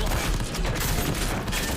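A dense, loud burst of gunfire erupts during a film shootout near a van between corrupt police and a mafia boss, with rapid overlapping shots filling the whole moment.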